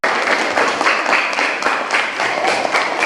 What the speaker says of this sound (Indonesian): Kita sekali lagi memberikan tepuk tangan untuk mereka.